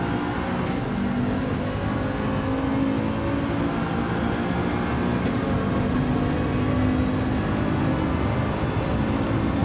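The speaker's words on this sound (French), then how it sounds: "Et le moteur, on entend, il est bien lancé là." A loud, steady race car engine roar in the video game Gran Turismo 7 at Spa, with a sustained revving drone, continuous throughout, running at high speed.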